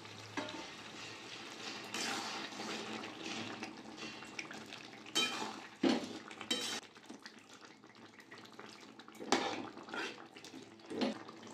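Hot water is poured into chicken curry cooking in a pan, and the mix splashes and sizzles. The stirring, scraping and bubbling carry on at moderate loudness, with a few sharper clatters.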